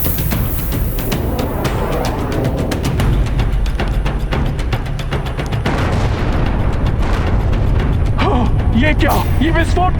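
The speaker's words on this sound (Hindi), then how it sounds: "ये क्या, ये विस्फोट कैसा?" A heavy booming blast rolls out amid dense, crackling noise and rumbling debris, with voices speaking over the chaotic din.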